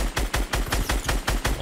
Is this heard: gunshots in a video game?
yes